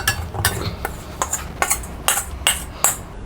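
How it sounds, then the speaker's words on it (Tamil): Ragi flour roasts in a pan while a metal spoon scrapes and taps against it in a brisk, irregular rhythm of about nine sharp, close strokes, with no voices. "அடுத்து ராகி மாவை நல்லா வறுத்துக்கலாம்."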